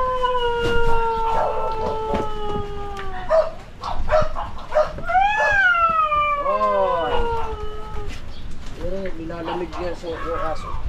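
A dog whining and howling from the cold, with long wavering cries that rise and fall, some overlapping, close and loud and continuing throughout.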